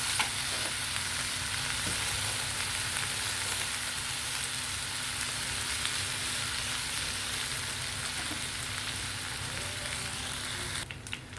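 Food frying in a hot pan makes a steady, rain-like sizzle that carries on evenly for several seconds, with a few faint clinks and a brief rustle near the end.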